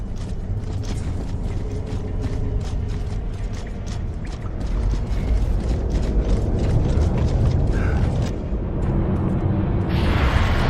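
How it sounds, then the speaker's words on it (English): Grindlifts rise out of the ground in Gears of War 2, a loud continuous mechanical grinding and rumbling with repeated ratcheting clanks and creaks building over about ten seconds, no talk. "More grind lifts coming in!"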